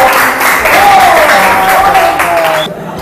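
Loud, continuous applause from students in a classroom, a thick wash of many hands clapping close by, with a faint voice under it before the clapping fades out.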